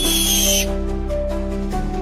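An owl's call, a barn owl or little owl in a British forest at night, rises over a sustained tonal drone, loud and close, with the high part fading after a moment.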